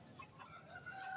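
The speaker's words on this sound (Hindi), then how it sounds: "माशाल्लाह से काफी अच्छा मुर्गा है" Rooster bought from a market clucking close by, a few short soft calls over low background noise, with no talking.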